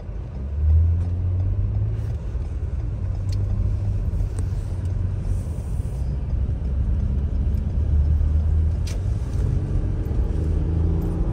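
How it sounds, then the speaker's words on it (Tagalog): A blue car on a road makes a steady low engine rumble that stays close and fairly loud for several seconds. A few faint clicks sound over it. "Yan na yung sasakyan kulay blue ah."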